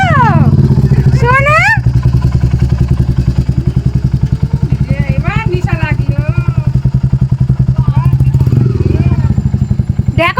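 A motorcycle rumbles along with a steady, loud engine drone and occasional clatter, carrying riders near a market and riverside ghat during a Gajan festival, while people talk over the engine.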